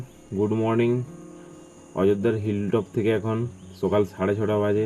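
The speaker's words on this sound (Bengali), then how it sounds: "শুনতে পাচ্ছ কি তোমরা পাখির ডাক আর ঝিঝি পোকার ডাকগুলো?" Crickets on a forested hilltop at Ajodhya Pahar in early morning give a thin, steady high trill. It runs under someone talking close to the microphone.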